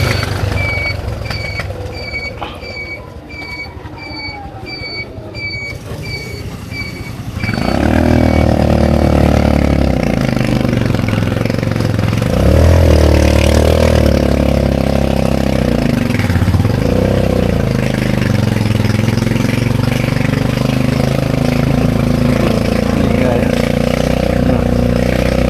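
A tricycle motorcycle engine runs steadily through a ride along Kasoy Street, a loud continuous drone after a few seconds of lighter street noise with faint beeping, and voices talk over it.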